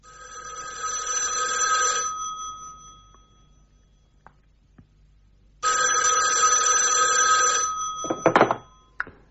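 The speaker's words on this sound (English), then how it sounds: "The telephone rang." An old-style telephone bell rings loudly in two long trilling bursts separated by a pause, followed by a clatter as the receiver is picked up.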